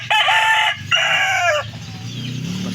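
A rooster crows loudly nearby in two bursts, followed by softer clucking and low farmyard noise.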